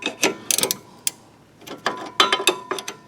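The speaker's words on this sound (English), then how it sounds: "I'm going to put my ratcheting wrench on the back side there." Ratcheting wrench clicking on the front stabilizer end link of a 2007 Pontiac G6, with short bursts of close, sharp ratchet clicks separated by brief pauses.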